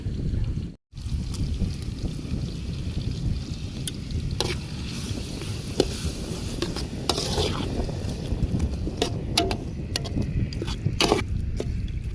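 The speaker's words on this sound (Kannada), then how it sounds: "ಶುಂಠಿ ಬೆಳ್ಳುಳ್ಳಿ ಪೇಸ್ಟ್ ಫ್ರೈ ಆಗಿದೆ, ಇವಾಗ ಟೊಮೊಟೊ ಹಾಕ್ತಾ ಇದ್ದೀನಿ" Tomatoes going into ginger-garlic paste frying in a pan for an egg gojju, with a steady close sizzle and stirring scrapes throughout and a brief gap near the start; no talking.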